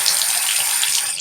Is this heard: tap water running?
yes